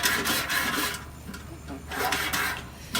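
Grill grate scrubber working over a Kamado Joe grate: three loud bursts of rasping back-and-forth scrubbing separated by short pauses, close and without talk.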